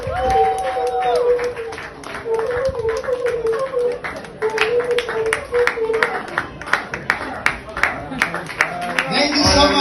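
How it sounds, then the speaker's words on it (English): Outdoor audience at a Trelawny Town Maroons celebration in Furry Town applauds for Chief Fabian Stennett, sharp scattered claps building into a steady round under a speaking voice. "Give him another round of applause."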